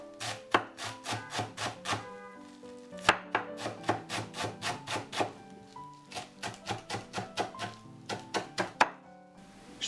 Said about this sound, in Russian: Чтобы зелень лучше нарезалась, немножко добавим соли морской и порубим.